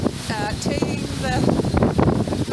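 Strong freezing wind buffeting the microphone outdoors, a loud gusty roar throughout with bird calls faintly heard over it.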